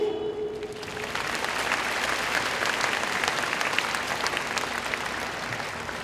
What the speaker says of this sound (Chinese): 请各位以最热烈的掌声再次谢谢在座的贵宾。